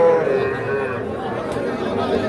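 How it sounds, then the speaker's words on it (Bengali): Calves and young cattle at a weekly livestock market in Ambari, Parbatipur, Dinajpur, with a low moo near the start over a busy background of crowd chatter and shuffling. "ছোট ছোট বাছুর যেখানে কেনা বেচা হচ্ছে, আমরা সে জায়গায় রয়েছি।"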